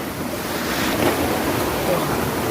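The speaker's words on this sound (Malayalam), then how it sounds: "ഏഴരക്കുണ്ടിന്റെ പാട്ടാന്ന് തോന്നുന്നു, അടുത്തെത്താറായെന്ന് തോന്നുന്നു." The Ezharakkund waterfall, heard from a forest stream hiking trail as it comes near, gives a steady broad rushing roar, distant and unbroken, mixed with some wind.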